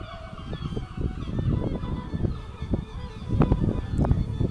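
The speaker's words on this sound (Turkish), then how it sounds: "Burada biraz martıların sesi yüksek çıkıyor" Repeated harsh, honking seagull calls sound close and irregularly spaced over steady wind noise outdoors on the coast at Folkestone.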